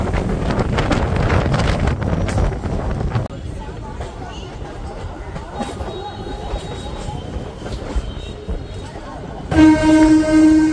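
The Kaviguru Express rumbles along with continuous wheel and carriage noise and wind buffeting, loud and steady, and a tonal horn-like blare sounds near the end.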